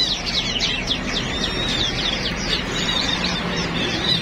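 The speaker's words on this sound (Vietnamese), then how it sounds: "Tiểu My hót rồi các bạn" Pet ornamental songbird at a bird-keeping business, singing a steady stream of rapid, high-pitched chirps and trills, close and clear over a low background hum.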